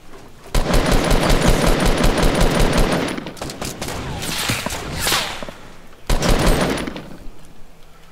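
Loud, rapid automatic gunfire in the Fortnite video game, with dense bursts for about three seconds, a quieter stretch of scattered shots, then another close, heavy burst.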